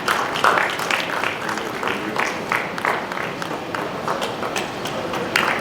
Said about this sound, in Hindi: तालियां बजनी चाहिए प्लीज।